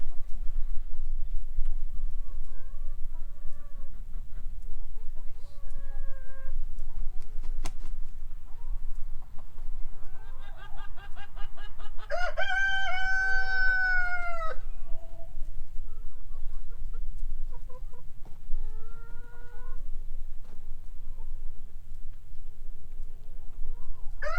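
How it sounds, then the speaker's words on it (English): Chickens cluck sporadically over a low outdoor rumble, with a louder burst of calls in the middle and scattered clucks before and after. "I'll start with the chickens, see how they're doing."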